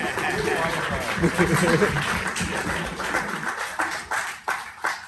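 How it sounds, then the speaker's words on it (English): Audience applause for college students at a film festival panel discussion, scattered clapping mixed with crowd chatter and a little laughter, with a few distinct claps near the end. "Give them a round of applause."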